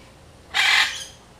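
A single loud, harsh bird squawk, close and brief, rising out of quiet background noise at the Theater of the Sea marine park in Islamorada, Florida.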